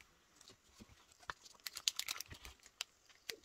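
A big mail envelope is torn open and its paper rustled, with quiet crinkling, ripping and crackling bursts clustered in the middle, close but faint.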